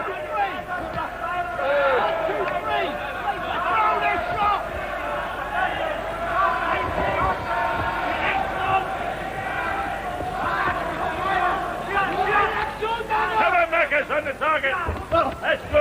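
A crowd at a WBC super middleweight title boxing bout, Markus Beyer versus Glen Catley, keeps up a steady murmur and roar with rising swells, heard under continuous commentary talk.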